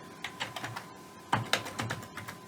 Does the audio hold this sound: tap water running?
no